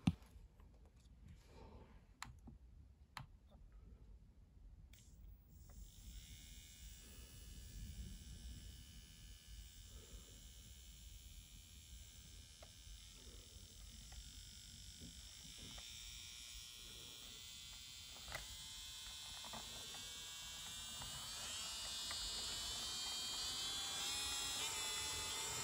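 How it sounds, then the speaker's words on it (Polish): Cordless RIO nail drill starts and runs with a steady high-pitched whir and quiet motor buzz, close and fairly soft, after a few clicks at the start. "pokażę Wam głośność tego, jak frezarka chodzi"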